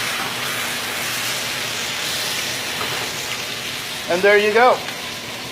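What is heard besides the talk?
steak searing in a pan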